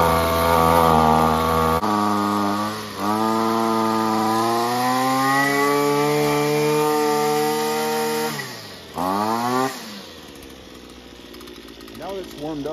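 A Shindaiwa string trimmer engine runs loud and steady with a high two-stroke whine, revving briefly down and back up partway through, then settling to a rougher idle near the end.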